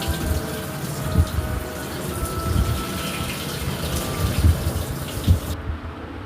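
Pumpkin leaves rinsed under a running tap, a steady close rush of water with soft splashes and thuds as the leaves are handled, no voices.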